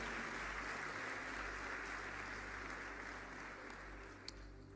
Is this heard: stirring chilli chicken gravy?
no